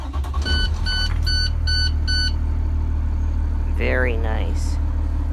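A 2017 International IC-CE school bus with a Cummins ISB 6.7 L diesel and a wheelchair lift starts up into a loud, steady low rumble while dashboard chimes beep in a short series, and someone speaks briefly.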